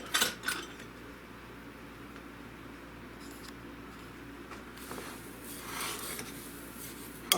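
A spoon mixing dry salsa seasoning mix in a bowl, with soft scraping and clinking that are faint and irregular and carry on steadily throughout.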